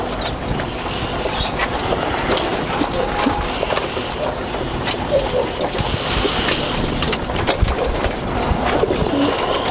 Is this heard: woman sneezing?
no